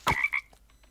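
A frog croaking in Minecraft survival mode, a single short, near croak that fades quickly into quiet.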